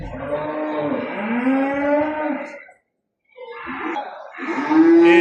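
Cattle low loudly at a sheep, goat and cattle market in Mashtaga, Azerbaijan, where young bulls, including Holsteins, are sold; two long close moos are separated by a brief silence, with a third call beginning at the end.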